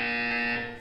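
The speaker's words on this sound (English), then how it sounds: "You will hear a buzzer." A Portal 2 test-chamber buzzer sounds as one loud, sustained electronic tone lasting under a second, fading slightly at the close with nothing else heard.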